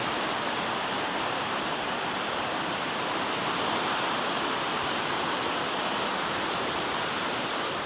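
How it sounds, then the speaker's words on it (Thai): The Lao River at a bridge construction site near Pa Yang Noi rushes fast and strong, a loud, dense, unbroken roar of flowing water with no talking. "นี่นะครับน้ำแม่น้ำลาวไหลเชี่ยวแรงมากนะครับ"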